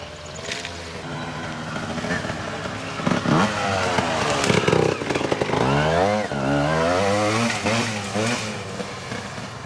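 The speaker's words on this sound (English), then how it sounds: "It's a really quiet bike, which is nice." Beta EVO 80 Jr youth trials motorcycle ridden near and fairly loud, the small engine buzzing and revving in rising and falling sweeps as it climbs.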